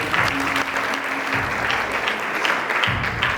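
A church congregation bursts into loud, sustained applause that stays near and full throughout, with a few voices faintly audible beneath the clapping.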